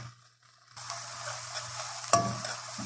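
Meat-filled samosas fry in a pan, a steady close sizzle beginning after a brief quiet moment, with one sharp clink of a utensil partway through.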